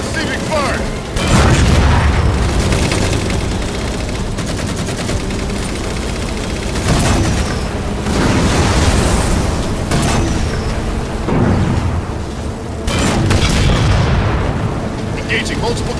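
Loud gunfire and booming explosions from a Halo 4 battle with tanks and mechs, dense bursts of shots and heavy blasts repeating across the scene while voices call out over the din.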